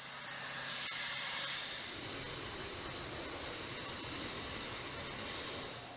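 Four Rolls-Royce T56 turboprop engines on an LC-130 aircraft at an Antarctic base give a steady, loud, continuous roar and hiss with a high whine, sustained throughout without talk.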